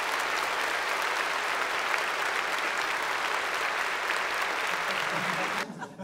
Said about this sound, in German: Es folgen minutenlange Standing Ovations für Zelensky.